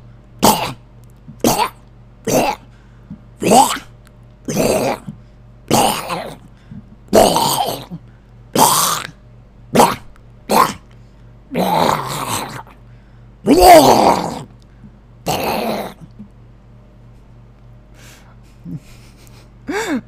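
A voice imitating Kog'Maw from League of Legends makes a series of short, harsh growling and grunting attack bursts, about a dozen in rhythmic succession, close and loud, with a steady hum underneath.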